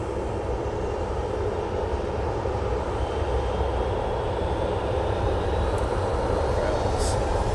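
An airliner departs Manchester Airport bound for Lanzarote, its engines a steady, broad roar that holds at moderate distance throughout, with a faint rising whine above it and a murmur of voices in the background.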